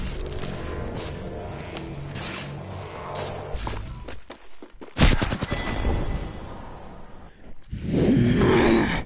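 Gunfire in the video game Apex Legends, bursts of shots and rapid-fire volleys crackling over game ambience, with a loud surge around the middle and a heavy rumbling roar near the end.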